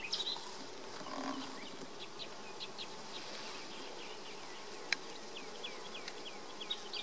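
Honey bees hum around an open beehive holding a queen excluder, a dense steady drone with individual insects zipping close by, one sharp knock near the middle and no voices.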